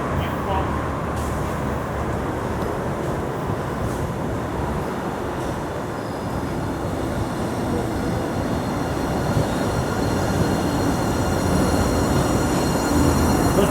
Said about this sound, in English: The train is now coming into the platform.